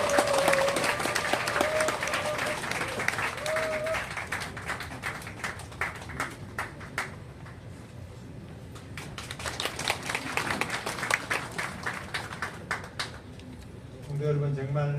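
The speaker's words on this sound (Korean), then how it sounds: "박수로 모시겠습니다." Sustained applause from a congregation welcoming a speaker at the opening ceremony of a memorial hall, steady crowd clapping filling the room for many seconds with a voice heard at the start and end.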